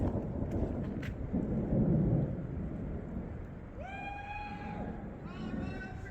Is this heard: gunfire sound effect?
no